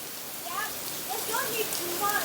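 Hard rain during a thunderstorm with small hail pours as a dense steady hiss, with someone talking over it.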